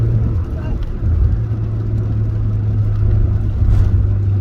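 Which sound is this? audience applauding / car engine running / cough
car engine running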